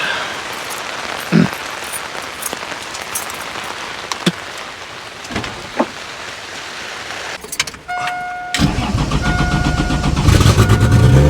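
A 1987 Toyota Supra with a swapped 2JZ-GE NA-T turbo engine, revived as a $600 project car, runs after being brought back from the dead; scattered knocks and clatter give way to a steady engine drone that grows louder near the end.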